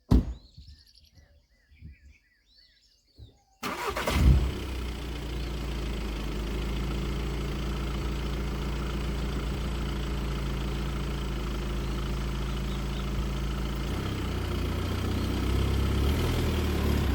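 A 2015 Volkswagen Passat TDI diesel cranks over and catches, then settles into a steady, loud, close idle that drones on without a break, after a short quiet stretch where a few birds chirp in the background.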